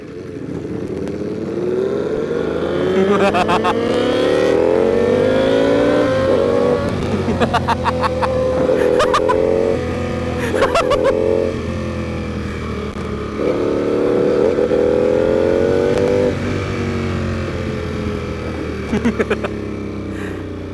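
A Ducati V4 R motorcycle engine revs loud and close in repeated surges, climbing and falling several times with throttle blips and brief dips between pulls.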